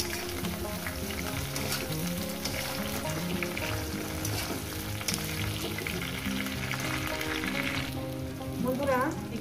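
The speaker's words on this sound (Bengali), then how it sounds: "ওই 5-6 মিনিটের মধ্যে বেগুনটাও ভাজা হবে।" Eggplant pieces with green chillies frying in a pan for a fish-head vegetable chorchori, giving a steady dense sizzle throughout with some clinking and stirring near the end.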